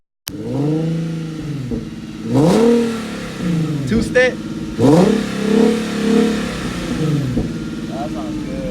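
An Infiniti Q50 fitted with a Rev9 axle-back exhaust revs loudly several times in quick bursts, each one rising and then dropping back toward idle. A person speaks briefly at the start.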